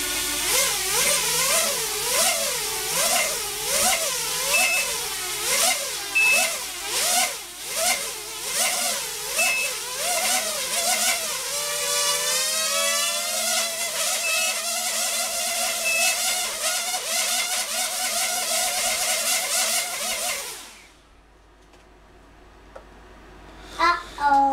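A small RC electric motor runs on a custom ESC and whines loudly and continuously. Its pitch wavers up and down, then climbs and holds steady as the throttle is boosted, before cutting off abruptly near the end.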